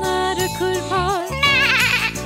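Sheep bleats sound over a bouncy children's farm song about a farmer shearing sheep, several wavering cries close and loud against the music.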